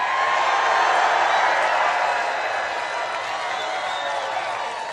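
A large crowd at a Donald Trump rally in Mosinee cheers and applauds in a dense, continuous roar of clapping and shouting that holds strong and slowly eases over a few seconds.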